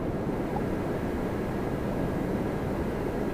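Steady broadband jet rumble from an airliner on the runway at Toronto Pearson airport, a continuous even roar with no voices.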